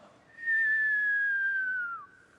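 A single long whistle slides slowly downward in pitch and fades out, a voice imitating a falling bomb.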